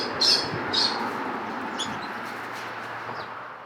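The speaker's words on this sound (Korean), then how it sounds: "기욱 씨는 앵무새를 기르고 분양하는 브리더입니다" Parrots at a breeder's home in rural Goesan give a few short, high chirps and squawks early on, then fall quiet over a steady, low background hum.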